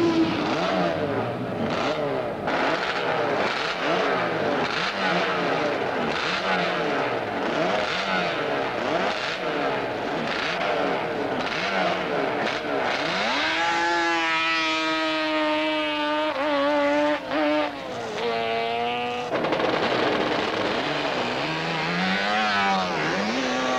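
Racing motorcycles on qualifying laps at Daytona in 1975 give a loud, continuous engine roar that swells and fades as bikes pass, with whining pitch rising and falling through gear changes. No talking.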